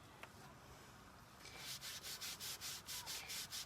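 A baby wipe dipped in stain rubbed across a wooden home decor sign, soft faint swishing at first, then a steady run of rhythmic back-and-forth scrubbing strokes, close and alone.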